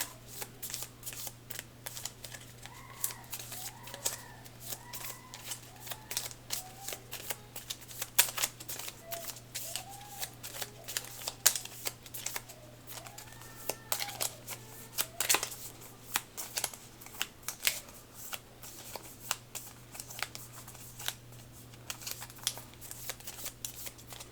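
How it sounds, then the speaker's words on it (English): Cards for the Aeons End board game are shuffled in a steady run of crisp riffles and soft flicks, close and fairly quiet over a low, constant hum, with no talking. "Shuffle these up."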